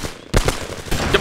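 Two sharp gunshot effects from a drama crack out close and loud, the second following shortly after the first.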